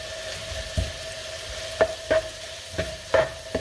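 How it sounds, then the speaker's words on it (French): Fajita filling with tomato sauce simmering in a pan gives a soft, continuous sizzle, broken by a handful of brief scraping knocks from a spoon stirring it, close and with no voices. "je vais mélanger et je vais laisser mijoter tout doucement"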